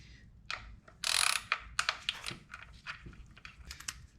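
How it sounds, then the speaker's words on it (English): Ratchet clicking in short bursts while undoing the four 5 mm hex-head bolts on a Honda S2000 valve cover, with irregular close, sharp clicks and one louder burst, no talking. "I'm now going to undo the 4 bolts that hold on this cover right here"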